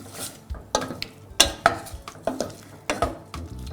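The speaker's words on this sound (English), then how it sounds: "pop those cherries in, give it a nice stir round" Cherries are stirred into hot sugar syrup in a pan with the heat just turned off. A spoon clinks and scrapes in irregular close strokes over a soft sizzle, with no talking.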